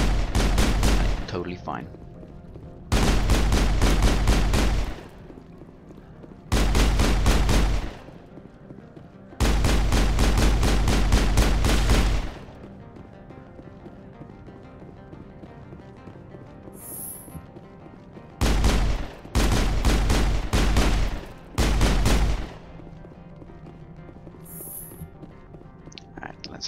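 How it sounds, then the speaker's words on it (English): Weapon fire in Mass Effect arrives as several loud sustained automatic bursts of a few seconds each, broken by quieter gaps, with a brief line of speech between them. "I like that not only can I carry weapons, that I can fire them."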